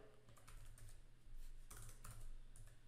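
Quiet, close typing on a computer keyboard in short uneven bursts of key clicks over a low hum, used to compose a message through a remote desktop session.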